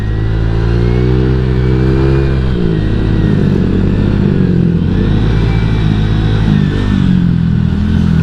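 A Honda Vario 150 scooter being ridden on the road gives a loud, steady engine drone close up, with a shift in pitch partway through as the throttle changes, and no voices.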